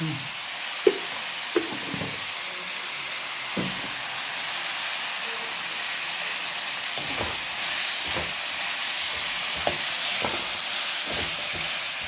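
Onions frying with a pinch of salt and turmeric in a pan give a continuous hissing sizzle, close and even, broken by occasional soft clicks and scrapes of stirring.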